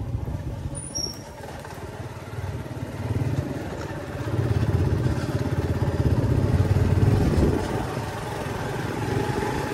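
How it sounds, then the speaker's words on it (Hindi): A motorcycle rides along a dirt path through a forest, its engine a steady, close drone that grows slightly louder midway and holds that level to the end, with no talking. "इस वाले रास्ते पे बाइक चलाने का अपना ही मज़ा है।"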